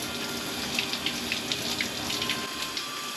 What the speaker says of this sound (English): wash the cylinder with hot soapy water